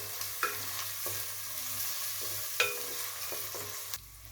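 Onions with slit green chillies sizzle in a pan as they are sautéed for egg biryani, with a steady frying hiss and a few distinct spoon scrapes and clinks, close and moderate in volume, no voices.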